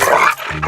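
A dog in a comedy film scene gives a brief, loud, rough growl close by, a single short snarl that cuts off quickly.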